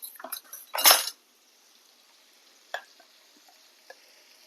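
A spoon stirs sambar powder into bread upma in a pan, a cluster of sharp metallic scrapes and clinks up front, then near quiet with a couple of faint taps.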